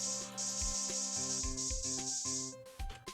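In the Phoenix Wright: Ace Attorney video game, a spray effect gives a continuous high-pitched hiss for over two seconds, set against the game's music and sound effects.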